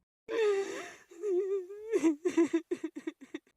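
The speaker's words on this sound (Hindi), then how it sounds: "तभी जंगल में एक धीमी रोने की आवाज गूंजने लगी" A wavering, high-pitched cry is drawn out, then breaks into a series of short, shuddering sobs that fade away.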